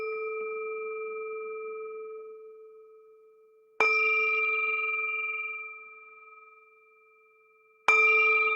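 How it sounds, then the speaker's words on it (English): A meditation bell is struck three times, each clear metallic strike ringing out with a long, slowly fading pure tone in an otherwise quiet space. "the sound of this beautiful bell returns us to our true home."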